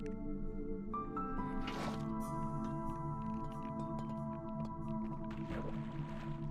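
Water being placed in Minecraft, a soft wet squishy splash with a few brief drips and chirps, faint over steady background game music.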